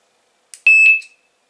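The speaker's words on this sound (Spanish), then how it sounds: "encendemos la alarma" A short Fox carp fishing bite alarm tone sounds once, a brief click followed by a steady high-pitched beep lasting about half a second, loud and close.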